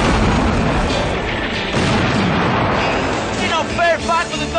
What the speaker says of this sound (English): Ain't no fair fight with a gun like that.